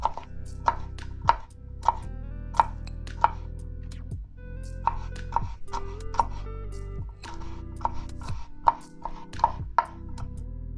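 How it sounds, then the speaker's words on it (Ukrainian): A knife taps rapidly against a cutting board in brisk, regular bursts, finely chopping garlic close by, with short pauses between runs. "Дрібно нарізаємо чесничок."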